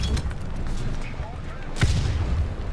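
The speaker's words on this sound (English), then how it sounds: "I'm holding position amidst the artillery fire. Oh god. One landed right in front of me." Artillery shells land during a war video game, with a heavy, close explosion booming out midway through a steady rumble of distant battle noise.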